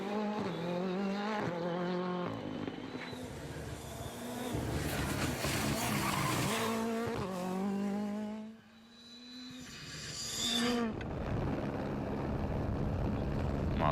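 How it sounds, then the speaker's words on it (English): A Skoda Fabia S2000 rally car races along a tarmac rally stage in the Czech Republic, its engine rising and falling through hard gear changes as it passes, loud and nearby with a brief lull mid-run. "Martin Fleck, one of the many Skoda Fabia S2000s"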